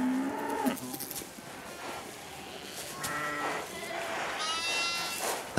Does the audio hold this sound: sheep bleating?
yes